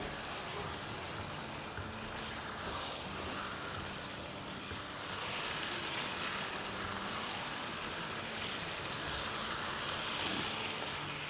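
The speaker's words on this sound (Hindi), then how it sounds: "तो अब इसकी हम 2-3 मिनट अच्छे से भुनाई करेंगे। फ्लेम हमारी मीडियम हाई है।" Chicken and potatoes fry in masala over a medium-high flame, giving a steady, dense sizzle that swells slightly louder partway through, with no voices over it.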